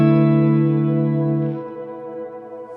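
Long shimmer reverb from a Line 6 Helix guitar processor rings out as a sustained, layered guitar tone that slowly decays, with a shimmering upper wash swelling and then thinning, heard alone.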